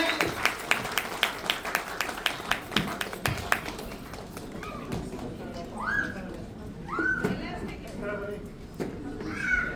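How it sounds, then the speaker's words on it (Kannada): Rhythmic, evenly spaced clapping from a crowd at a group-photo gathering, sharp and steady for a few seconds before fading into people talking over a busy room. "ಪ್ಲೀಸ್ ಸರ್ ಒಂದು ಜೋರ ಚಪ್ಪಾಳೆ ಕೊಡಿ ಸರ್"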